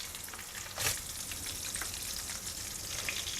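Onion, garlic and ginger sautéing in hot oil for beetroot chutney, giving a steady close sizzle with one brief stir or scrape near the start and no voices.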